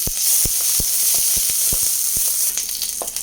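Garlic, sliced green chili and curry leaves sizzle in hot oil for a Kerala cherupayer curry, a loud, steady frying hiss broken by sharp crackles and pops close by.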